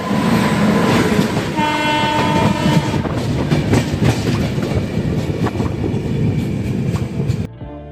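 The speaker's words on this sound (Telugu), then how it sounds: "మన ఎదురుకుంటా ఏదో ట్రైన్ అయితే వస్తుంది." A train rumbles past on the tracks near Khammam railway station in the rain, a loud continuous roar with clattering wheels and brief tonal horn-like bands, then cutting off abruptly near the end.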